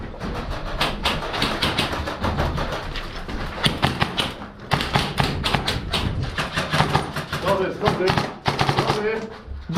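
Rapid bursts of airsoft gunshots in a close-quarters game among apartment blocks, close and loud, firing in quick volleys almost without pause, with shouting voices mixed in.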